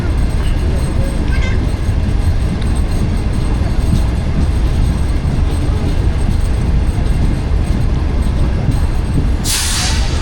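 A Pakistani passenger train, the Business Express, slowing toward a red signal, heard as a loud continuous rumble and rattle from inside the cab, with a sharp air hiss near the end and a voice speaking over it.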